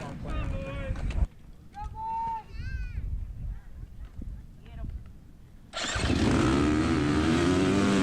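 Race motorcycles at the start of the final round of the HBGP series at Oldfield roar in loudly and close after a stretch of quieter engine noise, a dense wall of revving engines filling the last couple of seconds.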